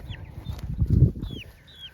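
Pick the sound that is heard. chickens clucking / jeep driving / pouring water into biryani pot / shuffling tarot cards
chickens clucking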